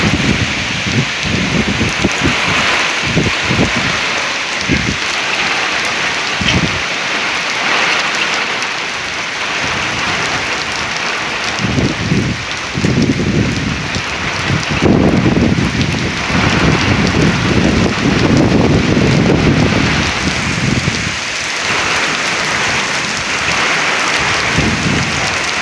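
Heavy rain pelts down in a severe Oklahoma storm while strong wind gusts roar, a loud, continuous wash of noise with surging bursts throughout, close and without talking.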